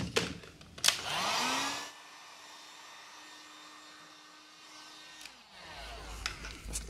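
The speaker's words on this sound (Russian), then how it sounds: "Строительный фен чрезвычайно полезная штука, выручает." A heat gun drying varnish whirs steadily for several seconds, a constant blowing hum that starts after a few clicks and winds down at the end.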